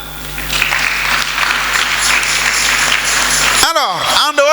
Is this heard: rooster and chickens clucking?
no